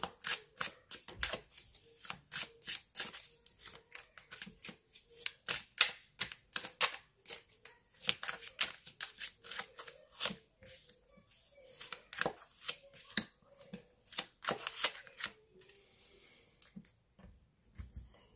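Tarot cards are shuffled for a reading in a long, fairly quiet run of rapid close flicks and snaps in bursts, with brief pauses between them.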